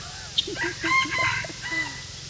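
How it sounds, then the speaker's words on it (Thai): Chickens cluck and a rooster crows in short bursts, fairly close, at a zoo in Ubon, Thailand, over a steady background hum, with no talking. "ไก่อยู่แบบธรรมชาติ"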